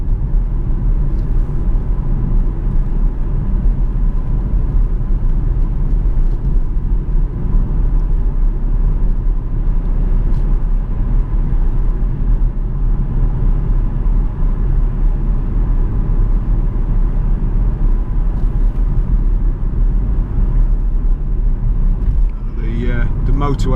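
Jaguar XF 5.0 V8 S saloon cruising on a rough road, its deep engine rumble and road noise steady and loud throughout, a faint voice underneath.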